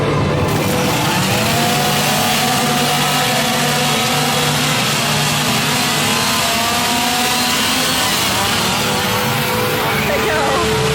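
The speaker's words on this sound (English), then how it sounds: "There's a chainsaw trade-off happening here." A chainsaw revs in a foggy Halloween Horror Nights scare zone, its steady engine drone buried in loud, dense crowd noise with people talking throughout.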